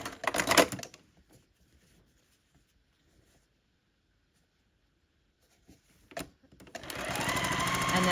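A domestic sewing machine stitches quilt block pieces together in two loud, fast, rattling bursts, the first about a second long and the second longer, separated by a quiet pause.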